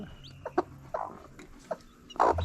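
Hens clucking with newly hatched chicks, one of them a protective hen that pecks, in a few short, soft calls and peeps spread across a quiet yard, with a louder burst near the end.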